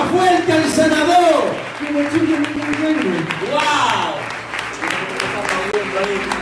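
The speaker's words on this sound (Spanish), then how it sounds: "¡Dele el aplauso a mi Jesús!" A church congregation breaks into loud, sustained applause and cheering. A preacher's excited voice shouts over the clapping throughout.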